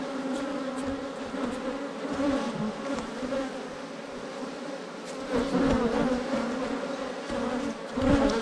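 Honeybees buzz around beehive frames during a spring honey harvest, a steady close drone of many wings that swells and fades as individual bees pass near, with no talk over it.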